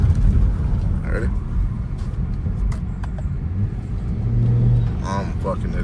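BMW 335i with N55 turbocharged engine and BMS intake accelerating, a loud deep engine rumble and rising revs with brief fluttering bursts; people talk over it.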